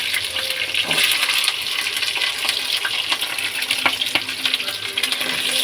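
Chopped vegetables hit hot oil in a pan already seasoned with bay leaf and five-spice for a Bengali ghonto, giving a steady, close sizzle and frying hiss throughout with faint stirring clinks.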